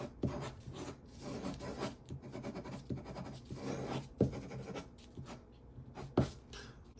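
Red ink from a Smith and Wesson tactical pen fitted with a Cross medium-tip refill scratches and rubs across paper in a steady run of soft strokes, with a couple of sharper ticks, close and quiet.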